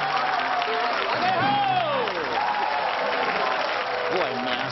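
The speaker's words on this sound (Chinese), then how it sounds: "好，来个掌声欢迎起来哈！" A studio audience at a comedy show claps in a continuous wash of applause, mixed under a voice and tonal sounds throughout.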